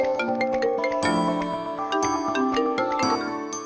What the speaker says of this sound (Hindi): आ गया तुम्हारे भैया का फोन।